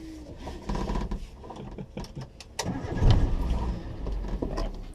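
A small Suzuki 4x4 fitted with a Vitara engine cranks and catches, then settles into a rough, throaty idle that swells louder midway and keeps running close by.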